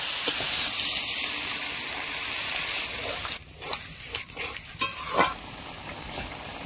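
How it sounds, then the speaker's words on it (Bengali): Spice paste with chili powder cooking down in a pan with spice water, a steady soft sizzle broken later by several scraping stirs and louder spatters. "মশলার জলটা দিয়ে কষে নিচ্ছি।"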